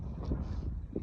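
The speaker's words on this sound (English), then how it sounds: "Getting windy" Wind buffeting a microphone outdoors near Mera Peak high camp, a steady low rumble with gusty swells throughout, no voices.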